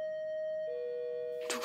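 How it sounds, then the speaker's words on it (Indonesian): A house doorbell is pressed, giving a clear sustained electronic chime tone that steps down in pitch, then a short muffled knock or rustle at the end, fairly faint in a quiet room. "Sayang seseorang memencet bel rumah yang tentu mengganggu mereka."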